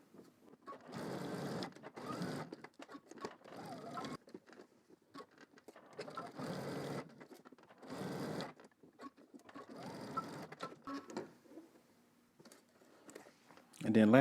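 Domestic sewing machine stitching the top and bottom of a polo shirt back pocket facing, several short whirring bursts separated by pauses, close and moderately loud, with quiet handling sounds between runs.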